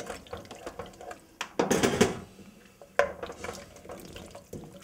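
Water poured into a cooking pot while making Korean daktoritang, a short soft splash and trickle in a quiet kitchen with a few light clinks of cookware.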